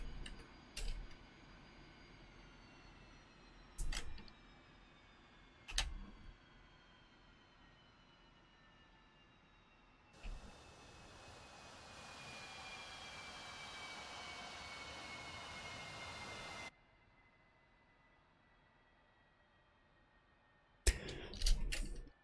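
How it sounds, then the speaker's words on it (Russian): A Su-25 jet engine spooling down in DCS World, a faint descending whine that fades away slowly, broken by a few sharp cockpit clicks and a burst of steady hiss. "Глушу самолет."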